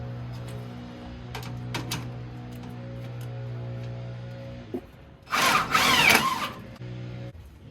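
A power drill drives self-tapping screws into a brace for mounting an oil cooler. After a few light clicks over a low background hum comes one loud, close, buzzing burst of about two seconds.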